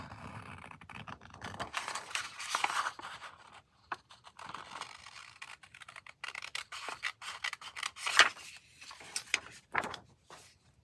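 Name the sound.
scissors cutting paper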